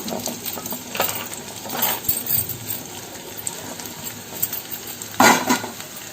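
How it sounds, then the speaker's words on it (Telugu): Bottle gourd pieces tossed into a pan and stirred, with scattered clinks and scrapes of a spatula against metal, a louder clatter near the end over a soft background. "ఇప్పుడు ఆనపకాయ ముక్కల్ని వేసేద్దాము"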